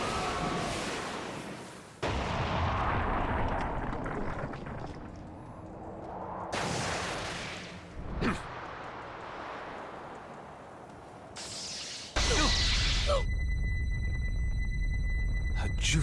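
In Naruto x Boruto Ultimate Ninja Storm Connections, the Sage Art White Extreme Attack jutsu lands as a loud burst of game effects: booming impacts, sweeping noise and a high ringing tone that swells and cuts off suddenly.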